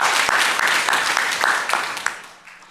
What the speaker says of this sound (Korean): 박수를 우리 하나님께 올려드리겠습니다.